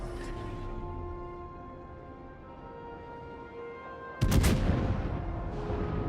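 A Des Moines cruiser fires high-explosive shells in a naval video game: a sudden loud blast of gunfire breaks in after a low engine drone and tonal hum, then rumbles on.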